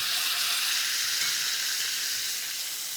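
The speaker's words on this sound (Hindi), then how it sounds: "और इस पाव को हम सेकेंगे अच्छे से।" Pav toasting on a hot street-style griddle beside bhaji gives off a steady, loud, even sizzle with a bright hiss that holds throughout, no talk over it.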